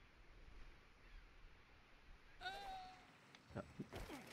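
A sheep bleats in the Android action-adventure video game Oddmar, a few faint, brief bleats over quiet game ambience with soft thumping effects near the end.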